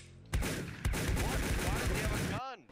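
Rapid game gunfire from a cheap online shooter, loud close bursts rattling steadily for about two seconds before cutting off, followed by a short electronic warble.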